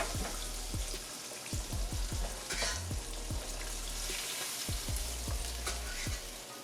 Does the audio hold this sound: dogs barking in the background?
no